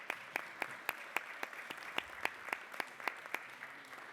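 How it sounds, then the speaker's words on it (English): Rhythmic, evenly spaced hand claps from an audience, roughly three or four per second and fairly close, sustained with little else heard. "we should clap for that"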